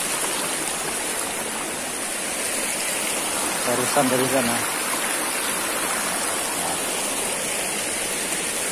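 A river flows steadily as hikers cross it, a constant rushing wash of water with someone speaking briefly partway through.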